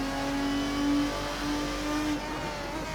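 A 2000 Lister Storm GT's engine accelerating in a racing video game on the Nordschleife, a steady, loud, buzzing tone that climbs and shifts as the throttle opens, with no talking.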